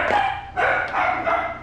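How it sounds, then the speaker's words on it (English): Several dogs bark in excited bursts, fairly close and loud, with a couple of sharp yips mixed in during home cooking, with no talking. "Those are my dogs freaking out"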